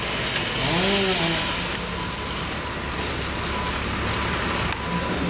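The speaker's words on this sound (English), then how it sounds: "chainsaws," A chainsaw drones steadily at a distance, cutting a tree, its whine rising and falling over outdoor rumble, with no one speaking.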